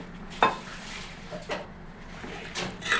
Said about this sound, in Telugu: మొత్తం ఒకసారి బాగా గరిటతో ఇలా కలుపుకోండి